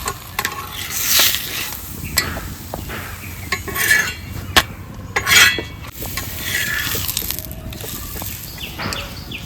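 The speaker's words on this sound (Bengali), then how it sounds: "প্রথম পরোটাটা ভেজে নেবো" Paratha frying in a hot pan, with a steady sizzle under repeated scraping and clinking of a spatula against metal, several sharper knocks standing out, close and fairly loud throughout.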